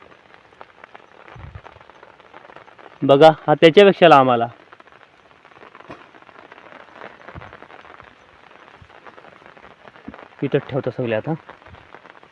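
Light rain patters faintly and steadily on a rural field while taro roots are dug up, with someone speaking in two short bursts over it.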